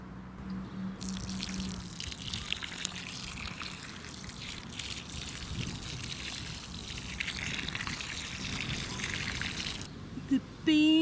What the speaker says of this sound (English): Just needs a good watering